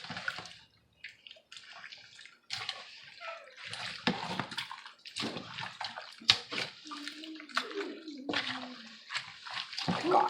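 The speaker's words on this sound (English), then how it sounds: "now we can go ahead and just stir everything together." Ceviche ingredients are stirred together in a bowl, giving wet, sloshing, splattering sounds in irregular bursts, close and moderately loud, with a brief voice near the end.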